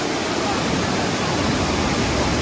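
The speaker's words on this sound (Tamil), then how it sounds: "அருவியும் இங்கே பயங்கரமாக கொட்டி கொண்டிருக்கு மிகப்பெரிய சத்தத்தோடு" A waterfall swollen by the rainy season roars as a dense, continuous wash of rushing water, loud and close, drowning out everything else.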